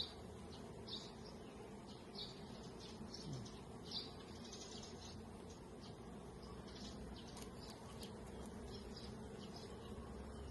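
A dense, steady buzz of many honey bees hums continuously, close and fairly loud, with no voices.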